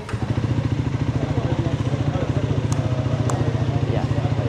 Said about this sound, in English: so I start the bike for you